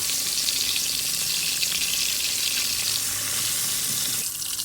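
Tilapia frying in hot oil in a pan, a steady dense sizzle that stays loud and constant throughout, close up with no talking.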